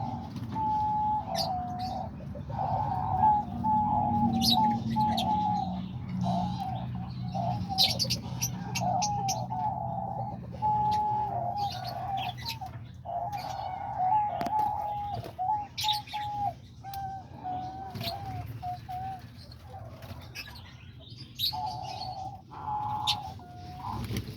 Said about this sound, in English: I just like to come in here and feed them and just hear them singing and enjoy the little birds